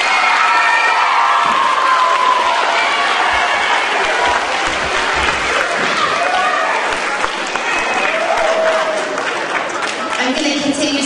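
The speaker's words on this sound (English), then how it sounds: "can we give our parents a giant round of applause?" A school spring concert audience gives the parents a loud, sustained round of applause, with cheering and children's shouts mixed into a dense crowd roar that holds steady to the end.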